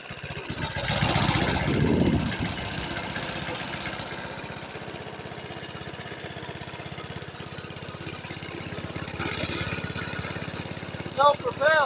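A vintage self-propelled lawn mower engine runs steadily at idle, a constant low chugging drone that swells briefly near the start, with faint talk at the end.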